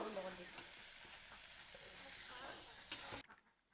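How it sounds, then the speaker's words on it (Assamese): Food frying in a pan, a soft continuous sizzle with a few stirring clinks, cutting off abruptly near the end. "এনেকৈ অলপ সময়ৰ কাৰণে দুয়োখিনি বস্তু মিলি যাবৰ কাৰণে ভাজি ল'ম"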